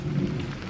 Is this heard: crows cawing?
no